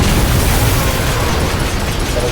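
A tank shell is fired and explodes in the Lost Planet 2 video game, a loud sustained roaring blast that fills the whole moment without letting up.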